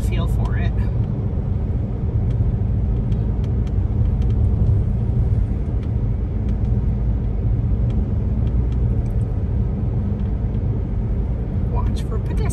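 Car cruising slowly along a road near Key West: a steady, loud engine and tire rumble with road noise that runs the whole time, with no clear gaps or changes.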